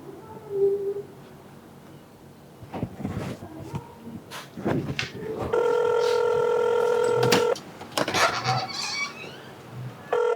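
A telephone call being placed: a few faint tones, then a steady electronic ringback tone for about two seconds, followed by more short dialing tones, with scattered handling noises around it.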